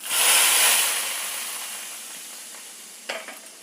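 Mustard seeds and curry leaves hit hot oil in a tempering for a stem-amaranth greens sambar, a loud bright sizzle burst that gradually fades, with a few crackling pops near the end.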